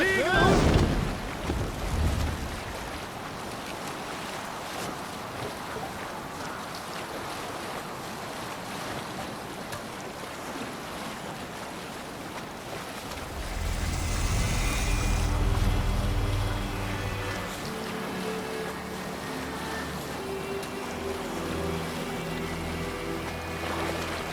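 A Viking longship sails at sea in Assassin's Creed Valhalla, with wind and waves washing continuously against the hull. A loud burst comes early, the water surge swells midway, and voices call out in the background.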